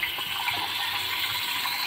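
Water gushes through a torn hose into a washing machine's dryer, a steady loud rushing and splashing that runs without a break.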